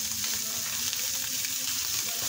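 Tomato puree fries in a pan for a Greek lamb shank stew, giving a steady, close, moderately quiet sizzle that holds throughout without a break and has no talk over it.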